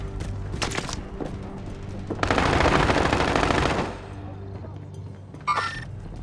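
Video game firefight with a sustained, loud burst of automatic gunfire lasting a couple of seconds, set between scattered single shots and a sharp later report.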